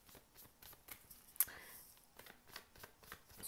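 Divination cards are shuffled for a card reading, producing a series of soft, rhythmic riffling swishes up close, with one sharper snap partway through and quiet handling between strokes.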